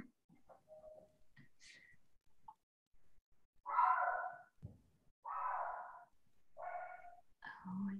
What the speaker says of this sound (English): Can everybody hear my dog barking?